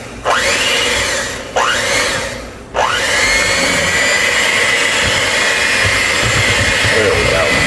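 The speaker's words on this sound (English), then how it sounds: "Now, we're going to put our eggs in one at a time and beat them in." Electric hand mixer beating eggs into Ooey Gooey Bar batter, a steady high whirring drone that twice cuts out briefly and spins back up, continuous and close with no talk.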